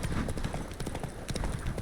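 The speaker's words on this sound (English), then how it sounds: "Whoa there, Roach." Horse hooves clip-clop rapidly and steadily in The Witcher 3: Blood and Wine, close and loud, with a faint bit of voice blended underneath.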